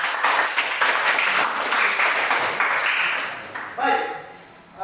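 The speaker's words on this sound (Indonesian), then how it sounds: "Dan tepuk tangan untuk kita semua sekali lagi" Students in a classroom applauding together, a loud, dense burst of clapping that fades after about three seconds, then a voice begins speaking close by.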